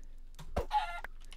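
Chickens clucking in the Minecraft video game, a brief, quiet burst of clucks heard alone against a faint background.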